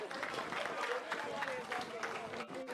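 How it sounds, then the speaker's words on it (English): A crowd applauds young African brass band performers, a dense, steady wash of clapping that holds for nearly three seconds, fairly loud and close, with voices mixed in. "Can I have a round of applause for them again?"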